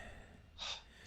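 A woman gives one soft, sharp gasp, a brief breathy intake that stands out against faint background hiss at a D&D tabletop session.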